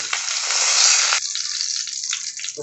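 Masala spices hit hot oil left from frying potatoes for dum aloo, bursting into a loud, dense sizzle that swells then drops to a steadier crackle, with no talking.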